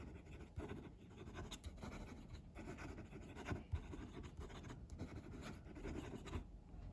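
A medium pen nib scratches quickly across paper in close, quiet strokes, a soft continuous rasp with small rhythmic bumps as the writing moves fast.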